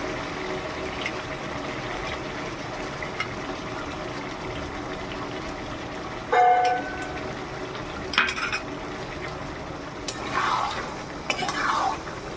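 Mutton cooked with beaten yogurt in a pan, a soft low sizzle under intermittent stirring, with several louder clinks and scrapes of a utensil against the pan and no speech.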